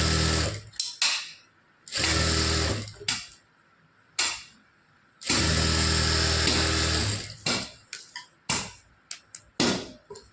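Sewing machine stitching a seam on a blouse sleeve, running in loud steady bursts of a few seconds each, separated by pauses and short starts.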